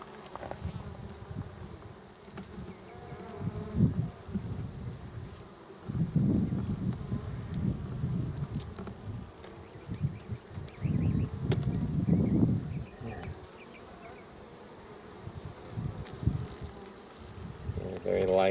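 Honey bees buzz steadily around an open hive during a frame-by-frame inspection, a dense droning swarm that swells louder in several bursts, with rustling handling noise and no speech.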